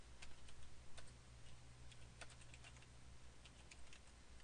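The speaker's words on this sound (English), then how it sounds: "Type in my name." Faint clicking of keys on a computer keyboard as a name is typed during an OpenSuSE 10.1 install, irregular taps scattered over a steady low hum and hiss.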